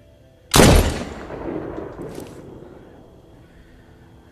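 A single loud gunshot in The Walking Dead: Saints & Sinners VR game, a sharp close blast followed by a long decaying rumble and a faint rattle.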